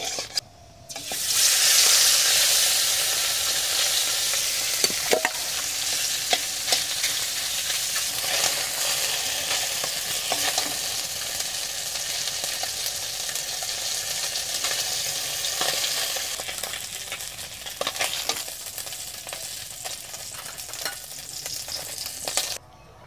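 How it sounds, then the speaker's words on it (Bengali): Fish rubbed with salt and turmeric frying in mustard oil in a pan, a loud continuous sizzle and crackle with occasional spatters and stirring noises, steady and close for the whole stretch with no talking. "সরষের তেল দিচ্ছি মাছটা ভাজার জন্য।"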